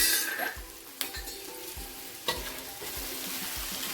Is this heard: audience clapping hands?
no